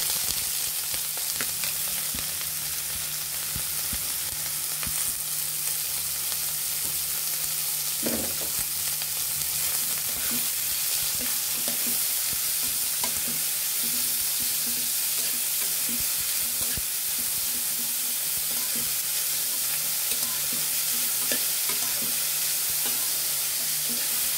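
Chopped onion, carrot and green chili frying in a pan for pasta, with a continuous loud sizzle and hiss plus occasional faint stirring clicks.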